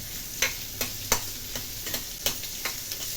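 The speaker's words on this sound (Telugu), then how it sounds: "వీటిని సన్నగా తరిగి పెట్టుకున్నాను. వీటిని మంచిగా వేయించుకోవాలి." Four thinly sliced onions frying in a pan, with a soft steady sizzle broken by regular scraping strokes of a spoon stirring them every half second or so.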